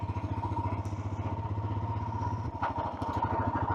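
A Royal Enfield Himalayan 411 motorcycle engine running just after being started, a low, throbbing idle with rapid even thumps that shifts to a looser, uneven chug partway through, close-miked with no voices.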